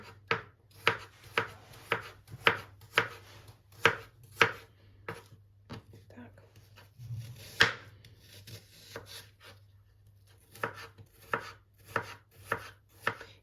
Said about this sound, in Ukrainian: І кожну скибочку тоненько ріжемо.